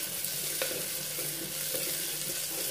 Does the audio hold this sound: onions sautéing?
yes